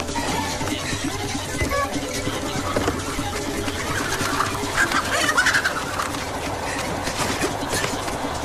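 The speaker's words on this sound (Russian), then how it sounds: "Только что черная курица снесла яйцо." A black hen clucks just after laying an egg, her short bursts of calls rising amid other fowl chatter in a busy yard, fairly close and steady with no talk over it.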